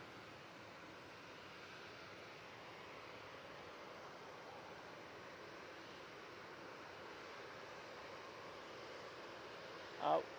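A Ryanair airliner at Manchester Airport gives off a steady, distant jet-engine roar that holds evenly throughout, with a brief sharp knock near the end.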